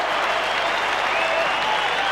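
A crowd at a 1991 Australian rules football match between Hawthorn and North Melbourne roars and applauds after a goal. The noise is a loud, unbroken wash from the stands, with faint commentary underneath.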